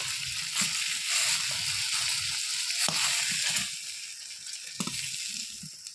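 Koi and shol fish fry noisily in very hot mustard oil in a blackened iron kadai, a dense continuous sizzle with occasional sharp pops and spatters close by, no voices.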